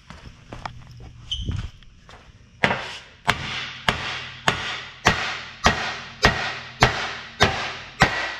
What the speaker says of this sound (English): Let's get this hammer.